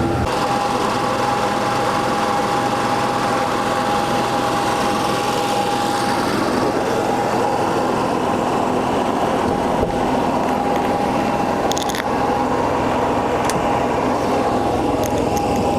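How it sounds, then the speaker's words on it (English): An RV generator runs at a campground with a steady, fairly loud mechanical drone and a constant hum, a few faint clicks over it, no voices. "I'm going to make sure everything's running off of our generator"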